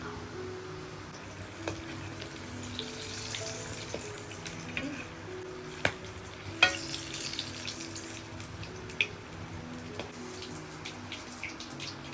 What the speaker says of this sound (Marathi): ह्याच्यात असे पिठामध्ये बुडवून त्याचे भजे तळून घ्यावे